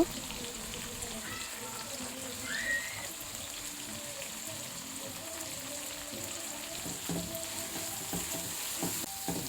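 Spices stirred into eggs in a cooking pan, a continuous soft sizzle with scraping and stirring noises throughout, fairly quiet and close, with no clear talking.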